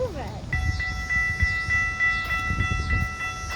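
A Metra commuter train passes near a childhood train station, its horn sounding as sustained steady chords over the rumble and clatter of the cars, with rail noise continuing throughout.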